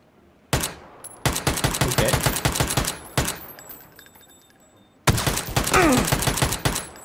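Gunfire in Battlefield 1, loud rapid automatic bursts in three long volleys separated by brief lulls, the later shots heavy and close.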